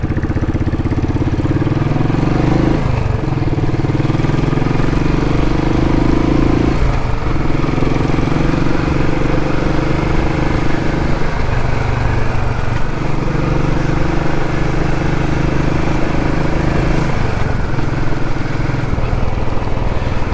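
A 2017 Classic 500 motorcycle engine running, a loud close steady thumping idle with a few brief revs or surges, continuous for twenty seconds.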